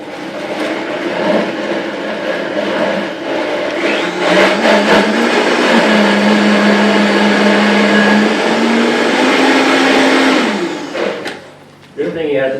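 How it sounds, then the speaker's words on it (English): A Vitamix blender runs loud and steady, processing spinach, basil, pine nuts, cheese and olive oil into pesto. The motor whirs for about ten seconds, its pitch shifting slightly, then it winds down near the end. "In my Vitamix blender, I put my spinach, my basil, my classic pine nuts, my cheese, and my extra virgin olive oil."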